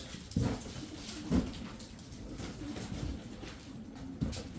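Tumbler pigeons from Kırşehir coo softly in a loft, a few low throaty calls spaced out over a quiet background of rustling.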